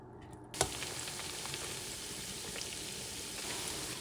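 Plantains fry in hot oil with a steady, crackling sizzle that starts with a sharp drop-in splash and then holds an even, close hiss with scattered pops.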